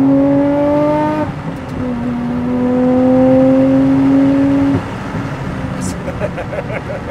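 A Nissan R34 GT-R twin-turbo engine on semi-slick tyres revs hard, its rising whine climbing, breaking off, then climbing again in a long, loud pull before dropping away.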